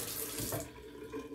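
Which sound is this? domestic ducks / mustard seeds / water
water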